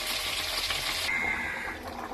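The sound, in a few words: water poured into frying spice paste for fish curry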